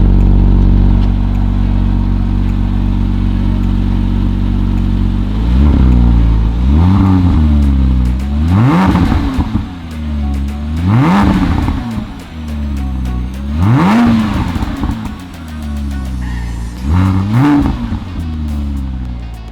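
A car with a stock exhaust idles with a low steady rumble, then revs sharply five times in a regular rhythm, each blip rising and falling back. The sound is close and fairly loud, with no talking.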